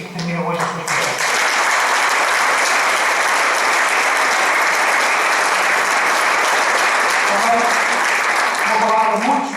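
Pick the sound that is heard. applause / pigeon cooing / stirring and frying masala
applause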